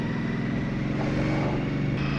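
An Indian Scout Rogue motorcycle engine runs with a steady, throbbing low rumble and slight revving swells, close and continuous.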